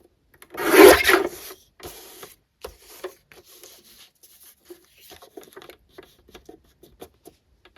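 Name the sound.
trimming an old paper calendar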